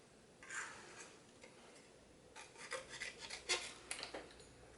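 Scissors snipping out a small hand-drawn paper frame, faint close crisp cuts and paper rustles, sparse at first then a quicker cluster of snips toward the end.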